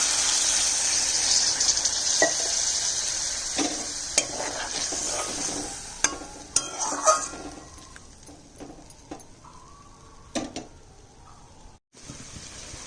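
Water goes into a pan of potato, bitter gourd and tomato curry, and the frying sizzle fades to a softer simmer while a spoon stirs and scrapes at intervals. The sound is moderately close and nobody speaks.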